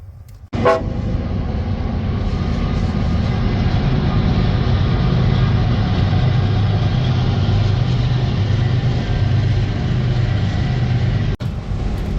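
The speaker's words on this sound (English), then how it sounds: "Really glad I don't have to share a bridge with that train." A train rumbles loudly past close by, heard from the footbridge over the James River, with a short horn blast at the start and a continuous heavy roar of rolling wagons that lasts until the clip cuts off.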